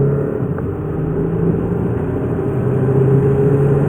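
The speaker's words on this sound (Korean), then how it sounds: "이와 같은 파워트레인을 바탕으로 한 가속 성능을 한번 알아볼까요?" An Audi A6 TDI quattro diesel accelerates hard during a performance run, heard from inside as a loud, steady low engine drone that builds slightly over a few seconds.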